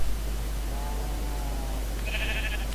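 A Minecraft sheep bleats once, thin and brief, against a steady hum of game background noise.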